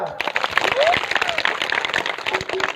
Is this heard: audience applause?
yes